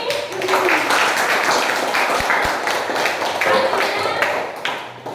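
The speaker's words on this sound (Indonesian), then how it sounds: "tepuk tangan untuk proyek kita hari ini" A classroom of students applauds their natural-dye project, a dense, continuous patter of many hands clapping at close range, with voices mixed in.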